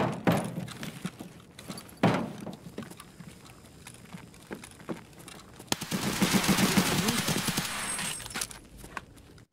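Gunshots in the video game Escape From Tarkov, sharp separate shots and short bursts of gunfire at close range, with a loud, dense stretch of rapid fire near the end.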